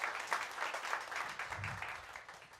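A comedy show audience breaks into steady applause, a dense wash of clapping heard from a distance for a few seconds without any voice over it.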